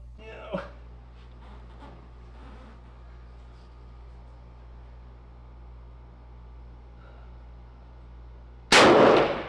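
A gunshot at an elite shooting pavilion range: after a long stretch of quiet room hum with a faint knock early on, one loud, sharp blast bursts out near the end and rings briefly.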